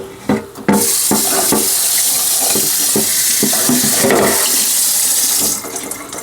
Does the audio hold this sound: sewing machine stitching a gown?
no